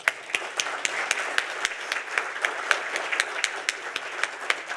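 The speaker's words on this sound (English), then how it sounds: "Let's have a round of applause." An audience at a fireside chat on the economy gives a round of applause, a moderate, even spatter of claps with individual hand strikes standing out against a soft crowd wash.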